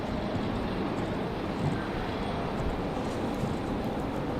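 A steady, broad roar of an Aer Lingus airliner at Raleigh Durham airport, distant and continuous, holding an even level throughout with no voices.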